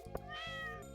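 A single short, clear cat meow from the farming game Stardew Valley rises and falls in pitch, close and alone.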